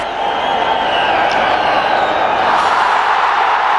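A cricket crowd cheering a stumping at a one-day international between India and Australia in Delhi, a loud, steady roar of cheers and clapping from a packed stadium.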